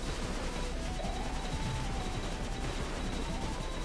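Nonstop weapon fire rattles on in the Cave Story video game during a Curly Brace playthrough. A steady, dense barrage of rapid shots runs under a buzzy, noisy game soundscape at a constant level throughout.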